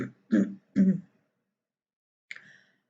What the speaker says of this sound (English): She makes a funny sound in her throat